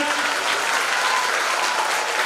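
A crowd applauds to welcome a district education committee guest at a primary school function in Nadej. The clapping is loud, dense and continuous, with no break and no voices over it.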